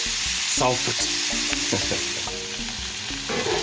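Celery, peppers and other vegetables sautéing in a pan for shrimp creole, with a steady close sizzle and repeated scraping and clinking from stirring.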